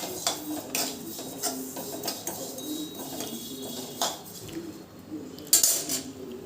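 Sesame seeds roasting in a pan while being stirred, scraping and clinking of a spoon against the metal in irregular close strokes, fairly quiet with no voices.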